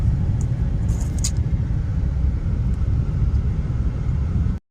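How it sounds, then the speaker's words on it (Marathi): Heavy road traffic on the way to Kurla, a steady loud rumble of engines and passing vehicles close by with no speech, cutting off abruptly at the end. "ट्रॅफिकच ट्रॅफिक आहे."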